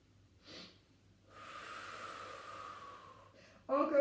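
A long, slow inhale through the nose during a Pilates exercise, soft and close, preceded by a brief sniff and followed by a sharper rush of breath at the end.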